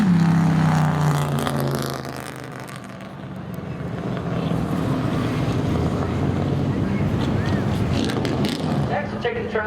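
Drag race car at Seekonk Speedway roaring loudly as it accelerates through turns 3 and 4, a sustained engine drone with wind buffeting and an announcer talking over it.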